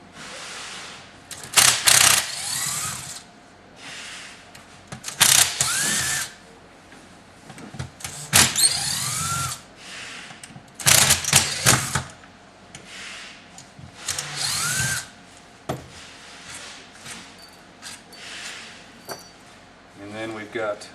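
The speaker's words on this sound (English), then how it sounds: "We've got 4 more screws in the bottom that got to come out." A power drill backs four screws out of the bottom of a Bosch 1611/1615 router base, loud whirring bursts of one to two seconds repeating several times with short pauses between them.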